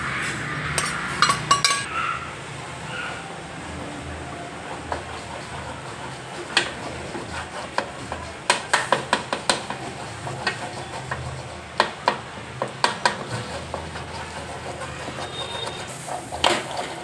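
A spoon clinks and scrapes against a metal pan as gram flour is stirred into hot water seasoned with salt, oil and asafoetida for dhokli shaak. The clinks come in scattered bursts, growing sharper and quicker toward the end, with no voices.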